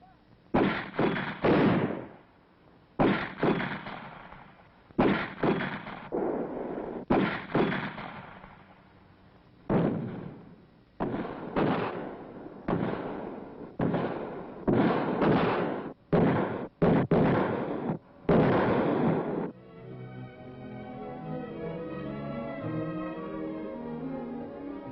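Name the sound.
artillery section firing shells during army training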